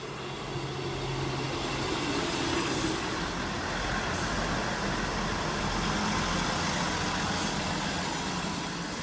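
A train runs through Longport station on the West Coast Main Line, giving a steady, loud rumble with low engine drone and continuous rail noise for about nine seconds, with no talk.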